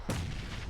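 A grenade explodes in a PUBG esports league match. A single short, heavy boom hits abruptly and fades within a fraction of a second.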